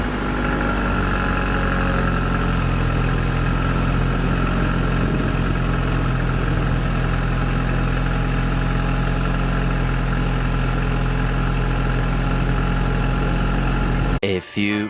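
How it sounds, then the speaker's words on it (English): A car with its stock exhaust idles steadily, a low, constant engine rumble heard from inside the vehicle throughout, ending with a brief clatter. "so you guys can hear how the exhaust sounds in stock"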